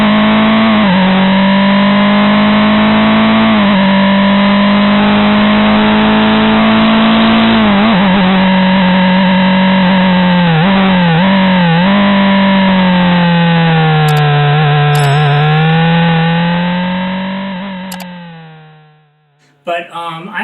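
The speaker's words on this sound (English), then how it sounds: "I'll include a clip from my race car." A race car engine, recorded on a GoPro Hero, revs loud and steady for a long stretch with harsh, distorted clipping and wavering pitch, then cuts out abruptly near the end.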